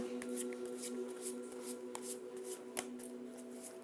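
Tarot cards are handled and shuffled, giving soft riffling flicks and sharper snaps at irregular moments over a steady tonal hum in the background.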